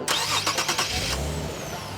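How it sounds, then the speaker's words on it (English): A race car engine cranks and catches at a race start, a quick burst of starter chatter turning into a rumbling mid-pitched idle, close and steady with no talk. "Gentlemen, start your engine."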